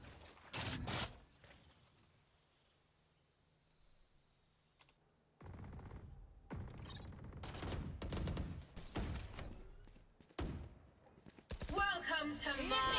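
Gunfire and ability sounds from a Valorant match in a college esports game between the Mustangs and Bears, with sharp bursts of shots and blasts breaking out after a quiet stretch and continuing amid busy action.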